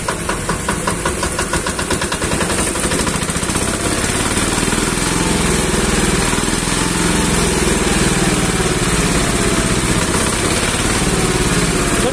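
A Yanmar NFD80 two-wheel tractor's diesel engine runs loud and close, a steady, rapid knocking chug that carries on unbroken throughout with no voices.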